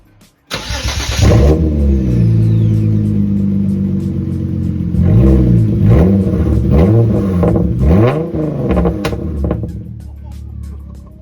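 A Hyundai Genesis Coupe engine starts and revs repeatedly, loud and raw with a rough exhaust roar from a Borla exhaust without the stock muffler, rising and falling in several throttle blips.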